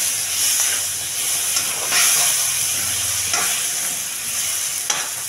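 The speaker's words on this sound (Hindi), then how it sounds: "यह डालने के बाद मैं अच्छे से मिक्स कर देती हूँ" Aloe vera vegetable curry with boiled leaves being stirred in a pan, Rajasthani style, giving a steady hissing sizzle with several scraping strokes of the spoon across about five seconds, close and fairly loud, no talking.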